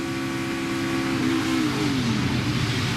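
NASCAR race car at full throttle during pole qualifying for the 2018 Coke Zero Sugar 400, a loud continuous engine roar with a falling pitch sweep as the car passes, no talk.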